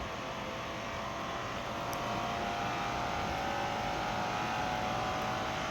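A car engine in the racing video game Assoluto Grip Racing holds a steady, droning pitch that climbs slowly, loud and continuous under faint game noise, with no talking.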